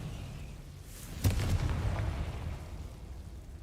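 A Confringo fire blast spell from Hogwarts Legacy goes off as one sudden burst. A low rumbling roar follows and slowly fades.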